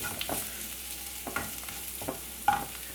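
Onions sauteing in a pan for cauliflower masala, a soft steady sizzle broken by several stirring scrapes of a spoon at irregular intervals, close and fairly quiet with no talking.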